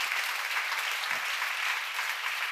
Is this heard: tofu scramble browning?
no